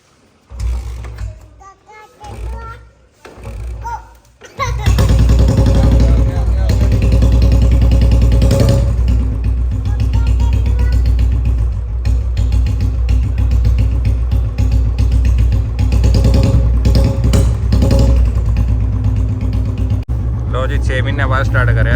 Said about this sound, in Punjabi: ਚੱਲਿਆ ਆਪਣਾ ਬੁਲਟ ਚੱਲਿਆ